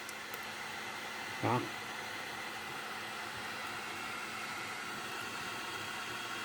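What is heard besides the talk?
heat gun blowing hot air on a GoPro Hero 8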